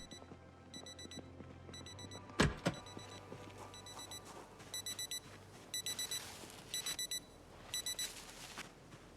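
A wristwatch alarm goes off in Project Zomboid, beeping in repeated quick bursts of four under steady game ambience, with a sharp thud just before the beeping starts.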